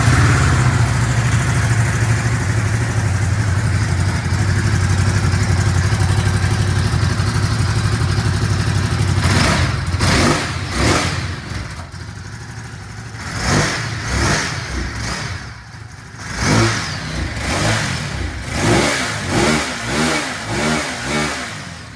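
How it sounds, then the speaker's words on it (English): A Ducati Supersport S motorcycle on its standard exhaust idles with a loud, steady, throbbing rumble, then is blipped repeatedly, each rev rising and falling sharply in a series of quick bursts. "let's fire the Ducati Supersport S up with its standard exhaust and see how"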